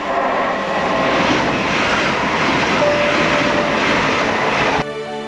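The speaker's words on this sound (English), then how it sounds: "These Class 800s and 802s working entirely on diesel power on this line" A Class 800/802 train running on diesel power passes close by with a loud, sustained roar and rumble that cuts off abruptly near the end.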